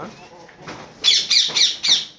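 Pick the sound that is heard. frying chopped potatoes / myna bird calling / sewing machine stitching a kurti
myna bird calling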